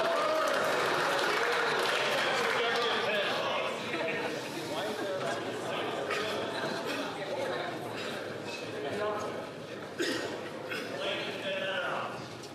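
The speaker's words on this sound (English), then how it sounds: "The Conservatives might want to clap a little less loudly." Members of the House of Commons clap and desk-thump during Question Period in Ottawa, a loud sustained roar of applause mixed with crowd chatter and voices, fading slightly then surging again near the end.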